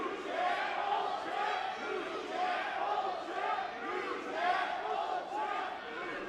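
A wrestling crowd at an outdoor stadium event chants in rhythmic waves, stirred up by a wrestler, with loud massed voices rising and falling steadily throughout.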